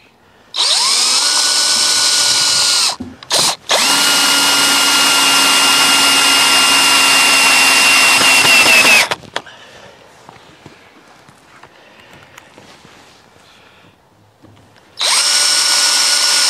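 A power drill drives big long screws through wood into a leg, loud close whirring runs in long bursts with a short break, then quieter handling noises before the motor starts again.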